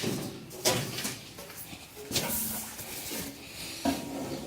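Plastic and metal knocks, scrapes and rattles come as the service panel is pushed into place on an Electrolux LAC13 washing machine. Several sharp bumps rise over a steady background hiss.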